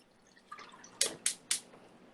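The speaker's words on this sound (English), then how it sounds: "I am going to add the kombu water." Kombu water poured into a pot for zaru soba, heard as a few quick splashy drips and spatters, close and fairly quiet, three sharp bursts in a row.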